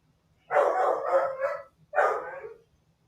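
A dog barks nearby in two bursts, a longer run of rough barks followed by a shorter one after a brief pause, with a low steady hum beneath.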